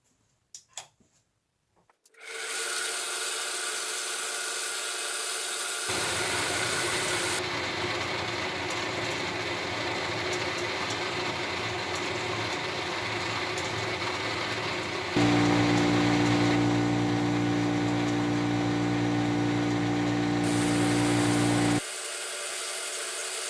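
A Clausing 8540 surface grinder starts up and runs steadily while rough grinding a surface on a support bracket, a continuous loud whine whose tone shifts as the pass changes, then drops near the end.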